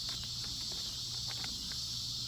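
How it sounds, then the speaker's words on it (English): Cicadas at sunset drone as a steady, high-pitched buzzing wash throughout, with a few faint scattered ticks beneath and no voices. "Listen to those cicadas"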